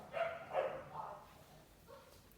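A dog barks a few times in the background, short yaps in a quick cluster, then a fainter bark after a pause, at moderate distance in a home.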